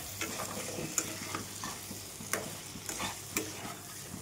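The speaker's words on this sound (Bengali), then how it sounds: "আর এই যে এটা কষাচ্ছি" Potatoes sautéed in masala for Bengali egg curry sizzle steadily in a pan while a spatula scrapes and stirs in irregular clicks, close and moderately quiet, with no talking.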